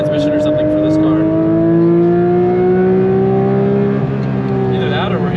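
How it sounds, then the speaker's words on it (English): A Porsche 992 GT3 RS engine hums steadily with a rising, high-pitched mechanical differential whine layered over it, heard from inside the car. "It almost sounds like it's like a race car whiny diff."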